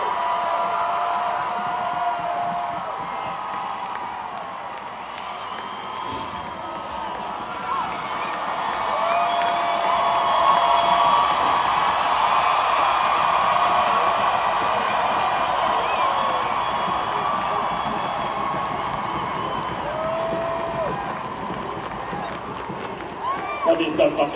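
At a show at PNC in Charlotte, North Carolina, a huge concert crowd cheers and applauds in a long, sustained roar that swells louder midway, with whistles and shouts scattered throughout.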